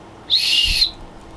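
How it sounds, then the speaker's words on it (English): A metal survival whistle from a survival kit blown once, a loud, shrill, steady blast lasting about half a second, close up and alone. "There's a whistle."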